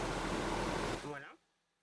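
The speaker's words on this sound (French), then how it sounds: "excusez-moi pour le bruit que vous entendez à l'arrière, c'est le ventilateur" An electric fan whirring with a steady airy rush close by in a room, a brief French-speaking voice, then the noise cuts off into near silence.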